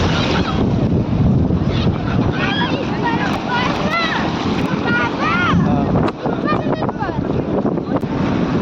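Sea waves wash onto a beach during a hot day, a broad rushing surf roar mixed with wind buffeting the microphone, while children's and adults' voices call out excitedly over it.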